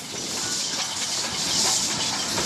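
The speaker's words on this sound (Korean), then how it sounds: "검은 연기를 뿜어올리며 달리던 기차는 어느덧 종착역으로 들어섰습니다." A steady rushing hiss of a steam train in Scotland rolling slowly into a terminus station, with faint rail rumble underneath and no voices.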